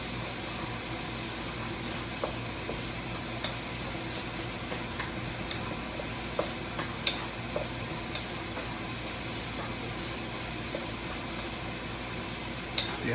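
Shrimp fried rice with vegetables sizzles and crackles steadily in a hot pan, with occasional scraping clicks of stirring, close and continuous without talk.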